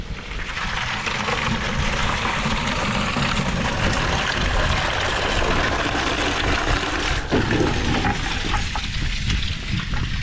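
Loud, continuous rushing water pours and gushes close by, a steady full flow with no speech throughout.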